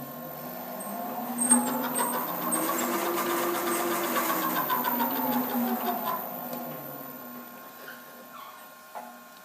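A Bridgeport milling machine runs as the cutter is repositioned while machining R8 tooling. It gives a faint, steady mechanical whir with a rhythmic ticking hum that swells in the middle and then settles.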